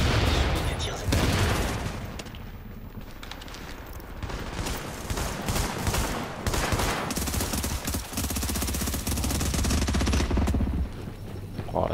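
Sustained gunfire from the video game Tom Clancy's The Division, dense bursts of automatic fire and shots crackling continuously throughout, loud and close, with a voice speaking over parts of it.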